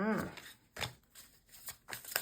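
Tarot cards are shuffled by hand in short bursts of papery riffling and slapping, with quiet gaps between them and some talking nearby.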